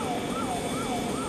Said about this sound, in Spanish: El helicóptero permite trasladar a la persona accidentada desde el puerto hasta el hospital porteño más lejano en solo 2 minutos y medio